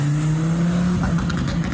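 A car at a car meet revs its engine with a loud, steady droning tone, then launches hard with a rising roar and faint tire noise, close and alone.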